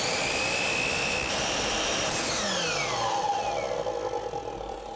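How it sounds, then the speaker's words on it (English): A chop saw with a carbide-tipped blade runs at full speed, its loud, steady whine dropping and shifting in pitch as it bites into chromed aluminum trim for a custom tiled shower, with no talking. "I'm gonna just run out to the chop saw and run these chromes through that, because it is just a chromed aluminum, and my carbide tip saw blade will take care of that."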